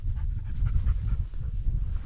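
A bird-hunting dog in the Colorado Rocky Mountain uplands pants in quick, rough breaths close by, a continuous low huffing rhythm with no talk over it.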